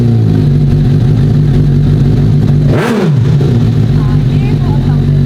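A Suzuki GSX-S 750 motorcycle fitted with a Scorpion exhaust runs loud and close with a deep, steady engine drone, then gives one sharp rev that rises and falls before settling back.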